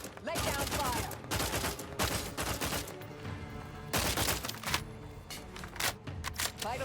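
Gunfire rattles in the Outer Worlds 2 video game, with rapid bursts of shots in repeated volleys, loud and close, and a faint voice briefly heard between them.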